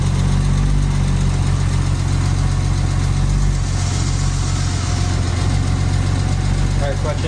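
A Porsche 986 Boxster engine idles steadily and loudly through the whole stretch, a low, even rumble with slight vibration as the clutch is worked in and out.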